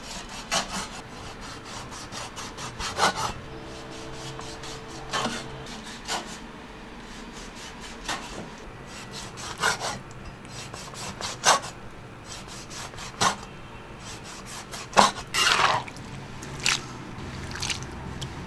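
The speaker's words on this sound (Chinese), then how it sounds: "接下来我们给海参改刀哈" A knife cuts sea cucumber on a cutting board, making close, irregular chopping and scraping strokes with short quiet gaps between them. Nobody speaks.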